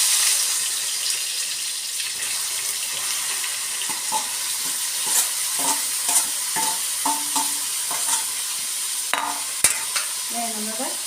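Crushed shallots frying in hot oil with curry leaves, a constant bright sizzle carrying intermittent spoon clinks and scrapes, close by and with no voices.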